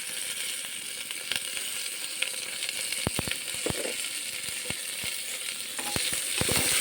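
Cumin powder, turmeric, salt and a little sugar sizzle steadily in a pan for khichdi, a constant frying hiss with scattered sharp clicks and taps of a utensil against the pan.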